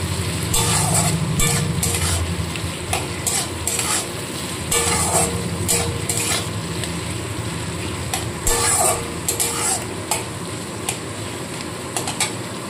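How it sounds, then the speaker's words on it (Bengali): Onions fry in a pan for chicken pulao, a steady crackling sizzle throughout with a few sharper clinks and stirring knocks from a utensil, close and fairly loud, with no talking. "পেঁয়াজটা ভাজা হচ্ছে"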